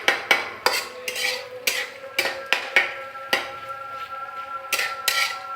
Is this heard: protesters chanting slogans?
no